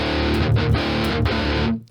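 An electric guitar runs through an amp simulator without a chug-enhancing pedal, playing loud, dense distorted riffs with brief choppy gaps before cutting off abruptly at the end.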